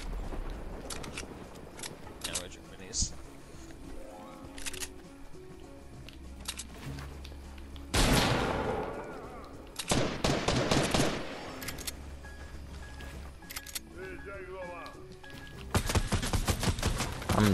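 Tommy gun fire in the video game Fortnite, rapid bursts of automatic shots with loud clustered volleys near the middle and end, over game ambience.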